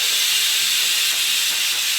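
A pressure cooker on a gas stove, cooking mixed vegetables and beans for undhiyu, lets out a loud, steady, hissing whistle for about two seconds before it cuts off abruptly.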